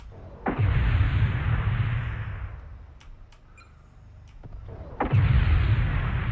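SRM missile volleys in MechWarrior Online: two loud, roaring bursts of firing and impact about four seconds apart, separated by a quieter stretch with sparse ticking clicks and no speech.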